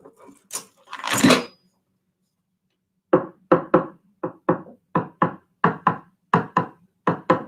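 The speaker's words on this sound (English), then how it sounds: "I'm using my spoon right now and playing this jumping rhythm" After a few quiet words, a spoon taps out a bouncy, uneven rhythm of sharp clicks, close and dry, repeating in quick pairs.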